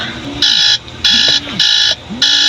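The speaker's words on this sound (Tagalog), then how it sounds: "Alarm." An alarm beeps in four even, loud pulses, each a bright electronic tone with a short gap between, over a low hum of room noise.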